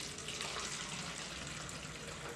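Warm water poured steadily into a container, a continuous bright splashing rush that holds level and close for the whole stretch, with no voices.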